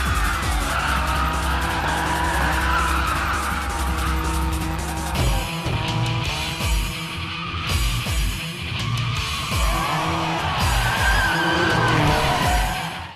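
A car drifts up a parking garage ramp in a Fast and Furious 3 film scene, engine roaring loudly with repeated tire squeals and skids echoing as it climbs and turns.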